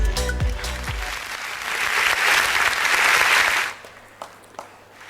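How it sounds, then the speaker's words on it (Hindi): A hall audience at a Diwali celebration applauds during a student results announcement. Loud, full clapping swells for about four seconds, then cuts off sharply, leaving a few stray claps in near silence. "जोरदार तालियां हो जाए प्लीज।"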